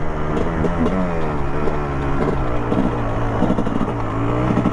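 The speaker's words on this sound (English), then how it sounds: "The engine sounds sweet, I think." A Kawasaki KX 250 dirt bike engine runs steadily and revs up and down in waves, loud and close, with no voices.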